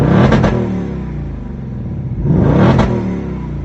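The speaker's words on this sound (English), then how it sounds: "Now track mode is going to open up the exhaust if you've chosen active exhaust." A 2024 Ford Mustang GT V8 in track mode with its active exhaust open revs twice, each blip rising to a loud snarling peak and falling back to a rumbling idle, close and alone.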